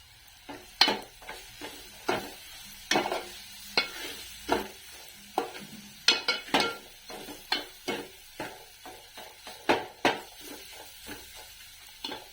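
Ginger, garlic, coriander and coconut paste with turmeric, salt and garam masala sizzling in hot oil as a spoon stirs and scrapes the pan in repeated sharp strokes, close and without talk.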